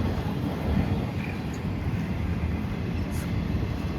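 A long train rolls past a railfan's trackside spot, a loud, continuous rumble and clatter of rail cars that holds steady without a break.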